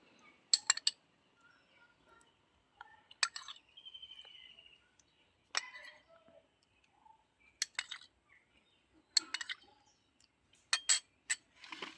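A spoon clinks and scrapes in scattered bursts against rock sugar as lime juice is spread over it, faint and close with quiet gaps between the clicks.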